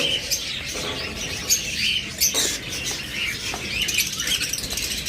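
Pet lovebirds, cockatiels, budgerigars and finches in a shop chirp and twitter continuously, a dense overlapping chorus of small bird calls with occasional wing flutters, fairly close and steady.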